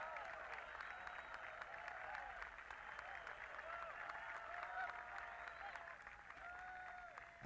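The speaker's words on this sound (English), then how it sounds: "the crowd salutes his effort" Golf gallery at the 1980s U.S. Open applauding a missed course-record putt on the 18th green, a steady wash of distant clapping lasting throughout with some crowd murmur mixed in.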